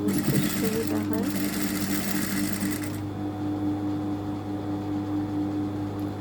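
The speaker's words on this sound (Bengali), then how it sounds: "তো আমি এখন এখানে সেলাই করে দিব।" An electric sewing machine runs steadily as it stitches a zipper onto a garment along the piping edge, a continuous close mechanical whir that begins loud under a voice and carries on alone.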